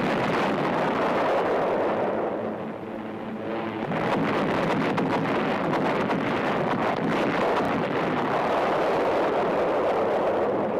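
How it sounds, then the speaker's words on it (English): Continuous loud, rumbling roar of a naval bombardment pounding enemy shore positions ahead of a WW2 D-Day beach landing, with wind-like noise throughout and a brief lull and dip in level near the middle. "the men can hear the steady pounding of their fire on the enemy's positions"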